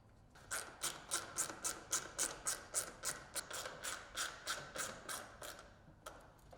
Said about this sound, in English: Now, install 4 screws to assemble brackets to the roof.